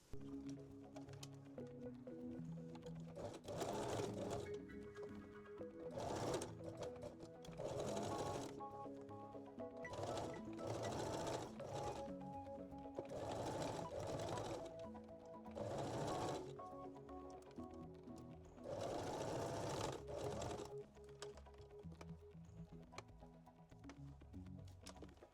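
Domestic sewing machine runs a seam on a reversible bikini bottom, rounding the crotch curve, in several bursts of rapid mechanical whirring separated by short pauses, close and steady with no voices.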